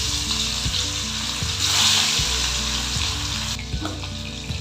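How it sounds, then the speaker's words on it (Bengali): Two pieces of hilsa fish fry in hot oil, a strong, continuous crackling sizzle close by, rising briefly in the middle and then settling, with faint tapping in the background and no speech. "তেলটা গরম হয়ে গেছে এবার আমি মাছ দুটোকে ছেড়ে দিচ্ছি"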